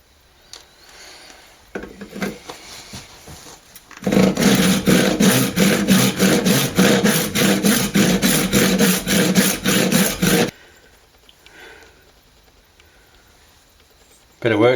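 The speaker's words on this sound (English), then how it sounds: "I'm going to try cut it with one of these." A hand saw cuts steadily back and forth through a guitar-build workpiece held in a vise, a rapid rhythmic rasping of even strokes lasting several seconds, with quieter handling noises before and after.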